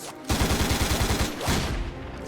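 Rapid automatic gunfire bursts in a TV series intro, a dense rattling volley starting abruptly and continuing loud throughout, with a heavier burst near the end.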